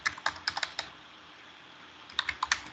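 Quick bursts of typing on a computer keyboard while entering a network command, close and crisp, clustered at the start and end with a quiet pause between, no talking.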